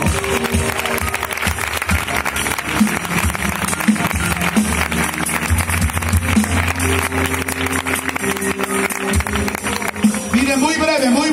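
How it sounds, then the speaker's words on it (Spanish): A church congregation at an evangelical campaign in Arrayanes breaks into loud, sustained applause that holds steady for several seconds. Voices and music sound faintly underneath the clapping. "Fuertes aplausos, si es para Dios."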